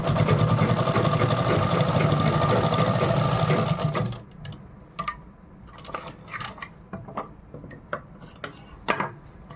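Electric sewing machine stitching a designer blouse with a V-neck, running fast and steady for about four seconds before stopping, followed by scattered clicks and taps of handling the fabric and machine.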